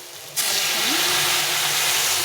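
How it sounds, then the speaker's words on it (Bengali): Boiled water pours into a bitter gourd and potato curry in the pan, setting off a sudden loud hiss of steam and sizzle that continues steadily after a quiet start. "এখন আমি এর মধ্যে জল দিয়ে দেবো এই জলটা ফুটিয়ে রেখেছি"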